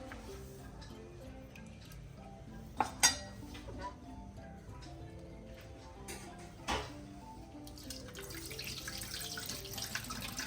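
Water is drained off soaked ingredients for Tamil-style ada dosa batter in a faint, quiet trickle, with a few sharp clinks of utensils against a vessel.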